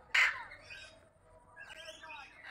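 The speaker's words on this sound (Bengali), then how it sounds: "শুরু করছি আমরা ম্যাকাও পাখি দিয়ে।" At a mini zoo in Newtown, Kolkata, a blue-and-yellow or red-and-green macaw lets out one sharp, loud squawk, followed by softer chattering calls nearby, with faint talk in the background.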